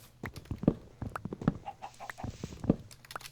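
A chicken in Minecraft survival gameplay clucks in short, soft bursts against quiet game sounds.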